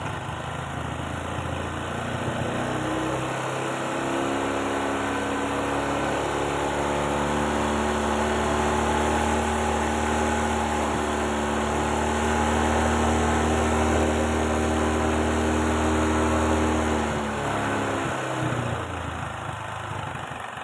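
A Bajaj Platina Comfort motorcycle engine runs steadily at idle during fuel mixture adjustment after servicing, a continuous close engine drone with the pitch shifting slightly as it is tuned, no talk over it.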